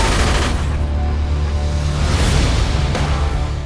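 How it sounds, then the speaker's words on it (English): A Thompson submachine gun fires in loud, dense bursts within a thick, booming wall of action noise. "You any idea what a Thompson submachine gun does to a mortal?"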